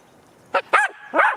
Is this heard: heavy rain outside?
no